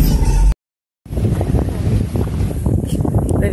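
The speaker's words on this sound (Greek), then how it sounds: "Φυσάει, έχει κύμα." Strong wind buffets the microphone at a small seaside harbour with waves, a loud steady roar that cuts out briefly near the start and returns, filling the rest of the clip.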